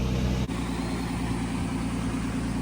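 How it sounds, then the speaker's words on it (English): A truck engine idles steadily at a campsite, a low even rumble that carries on alone with a brief dip near the start. "I've got the truck idling."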